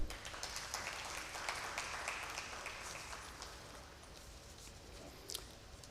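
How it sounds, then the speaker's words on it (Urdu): An audience at a women's conference session on creative media applauds, a fairly distant, steady patter of many hands that gradually thins and fades, with one sharper clap near the end. "آپ سے درخواست کروں گا ان سب کے لیے تالیاں"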